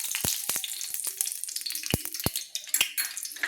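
Mustard oil heating in a pan makes a light, hissing sizzle, with a few sharp metallic clinks and taps of a utensil against the pan up close.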